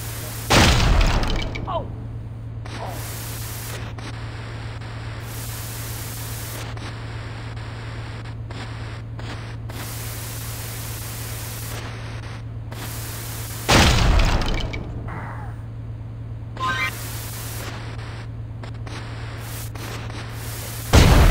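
Exploder blasts in Bully: Scholarship Edition, sharp bursts at the start, middle and end separated by long stretches of quieter game sound with a steady hum.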